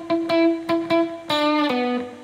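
Electric guitar plays the closing phrase of a funk riff, a run of clipped, plucked notes in a steady syncopated rhythm followed by a brief sustained note, close and clear with no voices.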